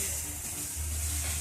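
Food frying on a clay stove while chicken with a potato and tomato dish is being cooked, a steady close sizzle with a low rumble of fire underneath, with no talking.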